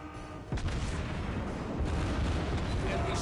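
Heavy battleship main guns fire a salvo in a naval warfare game, one sharp boom followed by a dense, rumbling roar that stays loud throughout, with faint talk in the background.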